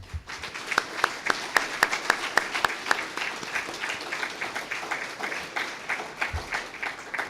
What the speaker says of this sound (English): So I suggest we give a giant round of applause to Greene County for making this happen.